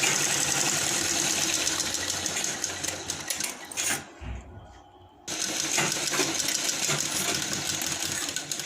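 A sewing machine running a second line of stitching on a lined blouse, with a steady, fast mechanical whir that stops briefly around the middle and then resumes at the same pace, close and fairly quiet, with no talking.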